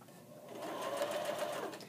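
Sewing machine stitching stretchy fabric: a steady mechanical whir starts softly, then settles into a continuous, moderately quiet running hum close by, with no talk.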